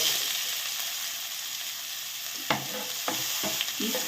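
Chopped onion hits hot oil with urad dal and chana dal in a pan for corn upma, a steady sizzle broken by several sharp stirring scrapes in the final seconds.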